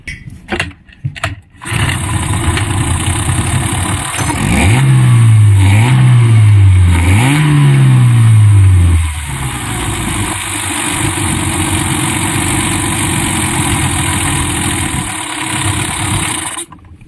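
A hard-starting Yamaha 15 hp outboard motor starts after a few rough attempts, then runs steadily and loud up close, revving up and down briefly before settling into a constant drone.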